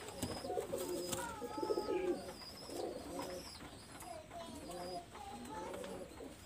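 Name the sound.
pigeons cooing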